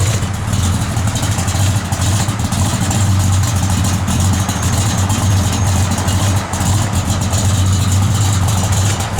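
A 1966 Chevrolet Malibu idles steadily at the rear, its exhaust giving a loud, even low rumble that runs unbroken throughout with no talk over it.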